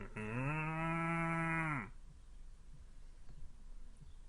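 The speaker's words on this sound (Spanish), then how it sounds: "se me atravesó en el camino nada más que una vaca" A cow gives one long, loud moo lasting under two seconds, close by, followed by quiet outdoor background.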